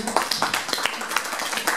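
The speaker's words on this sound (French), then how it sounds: "on applaudit madame, merci beaucoup" A few scattered claps from an audience at a French conference talk, brief and sparse, with crowd noise and talk around them.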